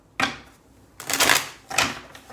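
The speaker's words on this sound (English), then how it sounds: "I am going to shuffle them again." A deck of tarot cards is shuffled by hand in three quick papery bursts, close and crisp, separated by brief pauses.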